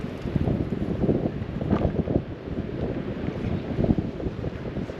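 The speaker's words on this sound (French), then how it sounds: "J'ai le vent dans le dos en plus ce matin là" Steady wind buffets the microphone with gusty rumbling, mixed with a faint wash of surf in the background; no voices.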